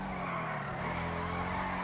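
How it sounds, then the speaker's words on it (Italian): A Benefactor SM722 car in GTA Online skids through a corner, its tires scrubbing over a steady droning engine note that holds loud and close throughout. "in tutte le curve sbanda questa macchina"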